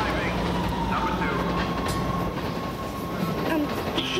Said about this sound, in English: Number two train arriving.